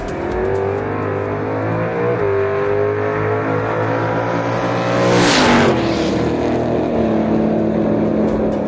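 A Holden VF SS fitted with an HO5 cam upgrade kit and 325 exhaust system launches down a Melbourne drag strip, its V8 roaring loud and rising through gears with a shift and a surge mid-run.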